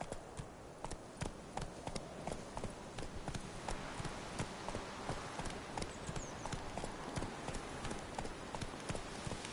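Roach, a horse in The Witcher 3, gallops in a steady rhythmic clip-clop of hooves, close and continuous throughout with faint background ambience.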